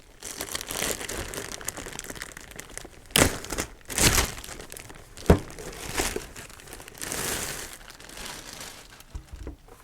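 Tape and plastic packaging being peeled and torn off a Behringer Xenyx X1204USB mixer during unboxing, with continuous close crinkling and several sharp ripping bursts.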